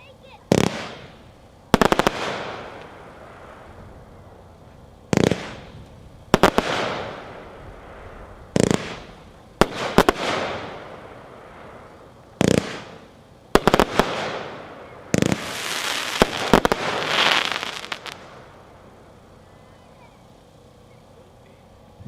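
An Epic Food Fight fireworks cake firing its 30 shots, loud sharp bursts in irregular clusters, each launch thump followed by crackling breaks that trail off, with the pace building toward a dense crackling finale and faint voices in the background.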